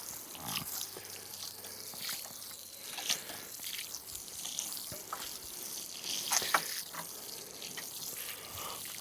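Water pours from a 7-gallon container onto a garden bed in a steady, close splashing stream, with animal grunts faintly in the background and no talk.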